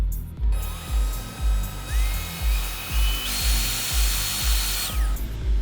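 The pump on patient lift equipment runs in steady rhythmic pulses, a loud whining motor with a pitch that rises in steps and drops off near the end.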